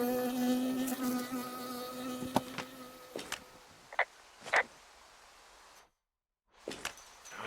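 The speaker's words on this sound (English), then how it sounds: "I got stung by a bee." Buzzing insect, a bee in the Firewatch game, droning close by for the first few seconds, then short passing buzzes fading in and out before brief silence and a final buzz.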